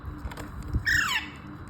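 A single shrill, descending squawk from a pair of baby Alexandrine parakeets feeding on Cerelac, close up over faint low background noise.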